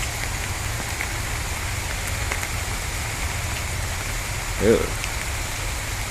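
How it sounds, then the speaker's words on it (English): Steady rain falls outdoors on and around a dog, a constant dense patter that lasts the whole clip, with a brief exclaimed word near the end. "You don't have to like the rain."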